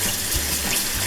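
Tap water pours steadily and close-up into a pan to rinse honeysuckle flowers, a continuous splashing rush with no voices.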